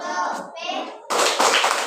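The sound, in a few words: children's rhythmic clapping, tepuk lope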